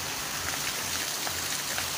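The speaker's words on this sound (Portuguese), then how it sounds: "Aí, a chuva em Cajazeira." Heavy rain pours down steadily in Cajazeiras during a storm that turns streets into rivers, a dense, close, unbroken wash of drops with no voices.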